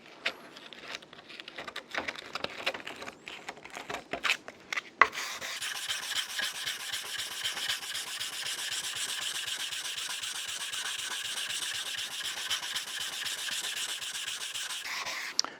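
Paper sandpaper of 180 grit rubs back and forth over a wooden surface by hand, a few scattered scrapes at first, then a steady dense rasping stroke rhythm, close and moderately loud.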